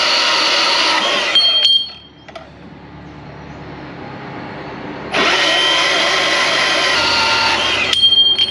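A welder buzzes while bracing is welded onto a mini truck, a loud steady crackling hiss that stops, leaves a quieter lull, then starts again with an uneven, pulsing edge.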